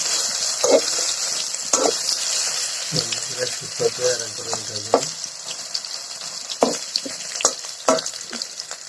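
Sliced pointed gourd (potol) fries in a pan with a steady bright sizzle, broken by scraping stirs and clinks of the spatula, while a voice talks now and then.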